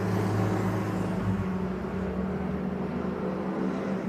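Historic 750 Formula racing cars roar past on a circuit during qualifying, a steady, loud engine drone with low rumbling tones that hold throughout and ease slightly toward the end.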